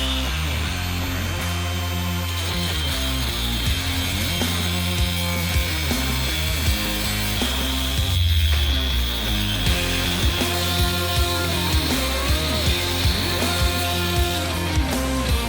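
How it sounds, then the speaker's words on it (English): Angle grinder cutting metal pieces for a DIY dirt bike tire changing stand, a loud continuous whining grind with shifting pitch that runs unbroken from start to finish, close and alone without talk. "And now you can take your angle grinder."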